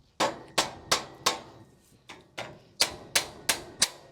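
Hammer striking nails while building a heavy-lifting tripod, about ten sharp close blows in an uneven rhythm, each ringing briefly, with a short pause partway through.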